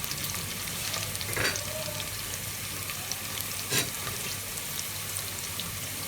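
Onions browned for beef yakhni pulao sizzle steadily in a pan as ginger-garlic paste and green chillies go in, a continuous frying hiss with two brief louder stirring bursts, no talk.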